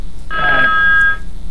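A telephone rings once on a call-in racing talk show, a loud, bright electronic trill about a second long set against a quiet studio background.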